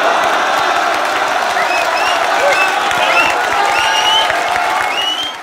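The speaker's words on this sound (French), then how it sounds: "vous pouvez l'applaudir" A large crowd at a rap battle event applauds a rapper with loud, sustained clapping and scattered cheers and whoops throughout, fading slightly at the end.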